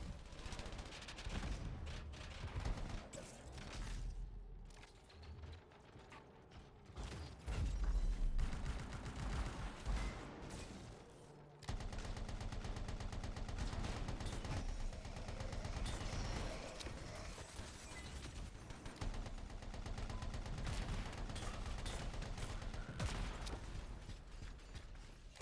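Dense video game combat from the shooter Anthem, with continuous bursts of gunfire and explosions layered over mechanical clatter, loud and busy throughout with a brief quieter dip midway.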